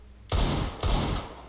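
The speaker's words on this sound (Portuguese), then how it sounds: "Nossa, é dois tiros." Two sharp, loud Desert Eagle pistol shots from a Counter-Strike match, about half a second apart, each with a brief ringing tail and no voices.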